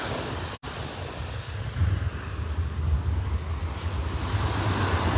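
Ocean surf rolls in steadily on a beach in North Naples, Florida, with a continuous low roar of breaking waves and gusts of wind buffeting the microphone, briefly cut by a dropout near the start.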